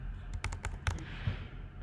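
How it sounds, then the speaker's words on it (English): Keys clatter on a computer keyboard in a short burst of several quick taps, close but moderately quiet, with no speech. "If I start typing in here"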